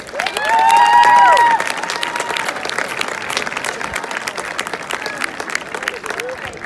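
A crowd applauds and cheers to welcome the Lentz family at a West York Area High School football Hall of Fame induction, steady clapping with a brief high whistle-like cheer early on and voices mixed in.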